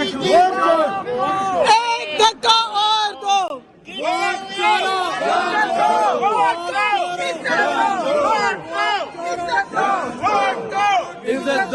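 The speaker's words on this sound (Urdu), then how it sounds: "اپوزیشن ارکان نے شور شرابہ کیا اور نعرے لگائے" Opposition members at a joint session of parliament shout slogans in loud, rhythmic unison, with a crowd of voices chanting close together over a continuous babble of shouting.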